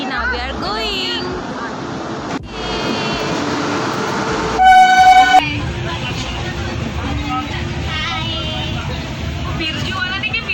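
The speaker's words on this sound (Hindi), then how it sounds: "फाइनली ट्रेन आ गई उज्जैन की।" A Jaipur Express passenger train arrives at a station, its steady rumble and wheel clatter filling the scene along with a brief, loud horn-like blast midway, while people talk over the noise nearby.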